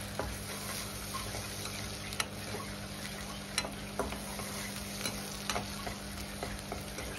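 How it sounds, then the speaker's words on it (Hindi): Onions for dahi bhindi sizzle steadily as they fry in a pan. A spoon scrapes and ticks against the pan now and then, close and moderately quiet, with no talking. "इस तरह से फ्राई करते रहें"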